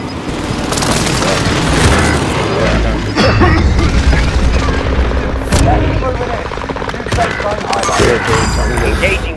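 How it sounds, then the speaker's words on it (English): Airstrike explosions rumble through a dense Call of Duty: Modern Warfare battle mix, with repeated heavy booms, a continuous wall of gunfire and mechanical noise, and loud sustained blasts throughout. "Allied precision airstrike coming."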